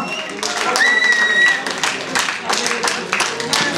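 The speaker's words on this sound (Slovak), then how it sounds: "Veľký potlesk pre Aniho samozrejme." A crowd applauds the winner of a 1v1 final at the Czech Vertifight dance battle, with steady clapping, a whistle and cheering mixed under a speaking voice.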